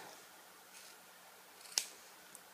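Scissors snip through skateboard grip tape in a quiet room: a faint snip early on, then one sharp, close cut near the end with a softer click after.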